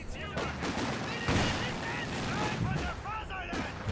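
Sharp gunfire and shell blasts from a Company of Heroes 2 match, with a sniper rifle firing amid a scattered mix of shots and booms, heard under a commentator's continuous talk.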